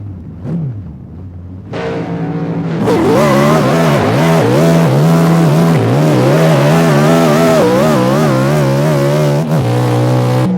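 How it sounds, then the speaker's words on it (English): Drag race car at the starting line revving hard, then launching: a loud, close engine roar that climbs in pitch and holds a sustained, strained howl for several seconds. "You can listen for his car to rev"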